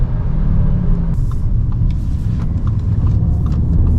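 An Audi S3 sedan accelerates hard on the road with a loud, continuous low engine rumble heard from inside the car, the pitch shifting slightly as it pulls through the gears, with no talk.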